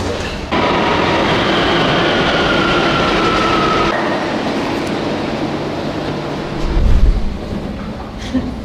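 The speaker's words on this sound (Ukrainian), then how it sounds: "Ми вже в метро" A metro train in Spain rumbles loudly and steadily with a high whine, then the roar eases slightly and a low thump sounds near the end.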